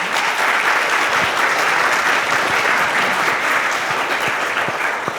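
An audience claps steadily and warmly for panellists after a public lecture on severe genetic epilepsies, a dense, even wash of applause that holds for several seconds without talk.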